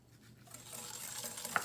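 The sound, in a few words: whisking sugar into tiramisu mixture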